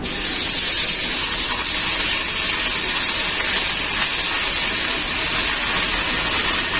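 Ground spice paste of dried red chili, green chili, cumin and ginger sizzles in hot oil in a steady, loud, bright hiss that holds without a break, heard close up with no talking.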